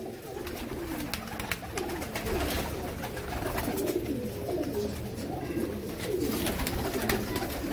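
A loft full of Sialkoti and Teddy pigeons, males and females together, coos continuously in a dense, overlapping murmur of many birds, close and steady with no talk.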